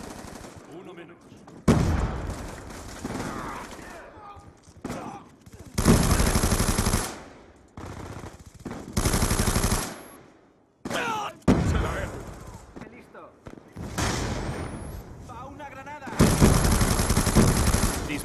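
Black Ops 2 match on Nuketown in Demolition mode, with loud bursts of automatic gunfire in repeated volleys separated by short pauses, broken by brief game voice callouts.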